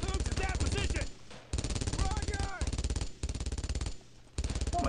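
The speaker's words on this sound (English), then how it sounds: "there's two machine guns" Machine gun fire in Brothers in Arms: Road to Hill 30, in long rapid loud bursts split by short pauses, with voices shouting over the shooting.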